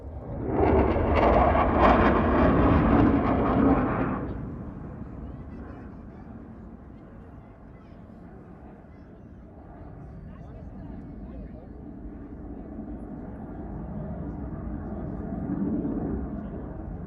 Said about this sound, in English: Here comes the F-15, headed right for us again.